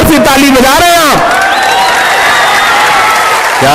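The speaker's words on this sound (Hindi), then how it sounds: "बड़ी कमजोर सी ताली बजा रहे हैं आप" Audience at a mushaira poetry recital clapping, a loud, dense wash of applause and crowd noise swelling after a spoken voice, with cheering and babble mixed in throughout.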